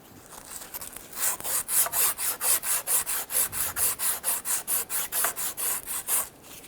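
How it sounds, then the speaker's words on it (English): Steady back-and-forth abrasive rubbing on a metal shaft of a 2006-2010 Hummer H3 during neutral safety switch replacement, about two dozen even strokes in a brisk rhythm, close and moderately loud. "continue to clean up this shaft here, sand it gently"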